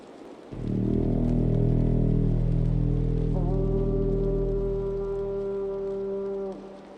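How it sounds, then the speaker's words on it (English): A large war horn sounded to signal victory in Assassin's Creed Valhalla, a long, deep, sustained blast that swells and holds for several seconds with a brighter rising tone near the end, loud and alone over soft rain-like ambience. "Time to sound the horn and signal victory."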